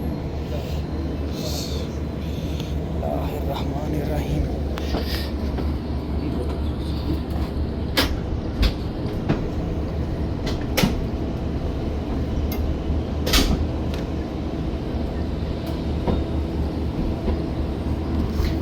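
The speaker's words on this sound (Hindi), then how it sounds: "ले जनाब, रेडी टू स्टार्ट का विसिल भी हो चुका है और ये ट्रेन जनाब मूव हो चुकी है।" Shalimar Express passenger train pulling away from a station, a steady low rumble with scattered clanks and knocks as it rolls, heard from inside with faint talk.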